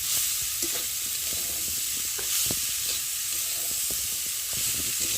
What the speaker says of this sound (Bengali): এখন আমি এই যে বাঁধাকপিগুলো একে একে দিয়ে একটু নেড়ে নেব কেন তলা যাতে লেগে না যায়